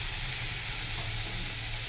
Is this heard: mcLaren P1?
no